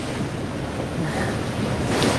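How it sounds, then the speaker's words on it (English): Water from a small waterfall pours down a mountain gully in a steady, loud, close rush, partly mixed with wind buffeting the microphone, and no one speaks. "There's a bit of waterfall coming down here at the moment."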